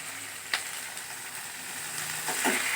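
Onions sizzle and fry in a pan for rice dish preparation, a steady close hiss with a few small pops and a faint clink, growing slightly louder toward the end.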